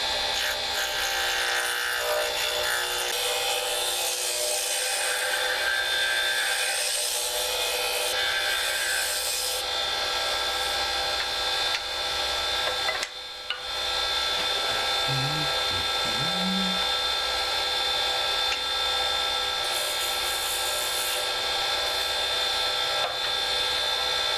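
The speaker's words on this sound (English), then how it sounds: "I'm going to use my roughing gouge, and I'm going to rough out my blanks" A wood lathe spins driftwood pen blanks while a roughing gouge cuts them, a loud continuous high-pitched grinding and rasping that runs steadily for over twenty seconds, easing briefly once partway through.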